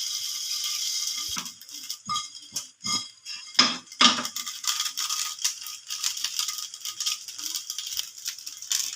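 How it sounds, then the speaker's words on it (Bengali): Ingredients rattling and scraping in a dry pan shaken over medium-low heat, with irregular metallic clatters and bursts, louder in the middle then settling into a steady rattling. "এবার আঁচটা মিডিয়াম টু লোয়ে রেখে এগুলো বেশ খানিকক্ষণ ভেজে নেব,"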